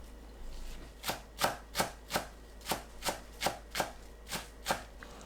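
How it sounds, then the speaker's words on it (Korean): A knife chops green onions finely on a cutting board in about ten steady, evenly spaced taps, close and crisp, with no talking. "실파는 작게 썰어줍니다"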